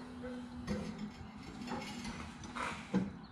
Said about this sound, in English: this lever's still a little stiff